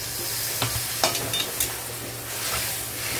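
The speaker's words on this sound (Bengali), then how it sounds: "ভালো করে নাড়াচাড়া করে দিলাম" Hilsa fish head cooking with ash gourd in spiced water sizzles steadily in a pan while a spoon stirs, giving a few soft scraping knocks over the constant frying hiss.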